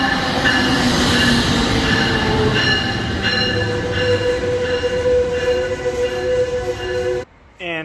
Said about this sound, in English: because I hear a train coming.